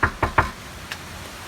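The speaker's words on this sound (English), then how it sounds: "Come on, Snuggie, answer the door" Three quick knocks on a door, close and sharp, followed by a fainter fourth tap, with steady background noise and no talking.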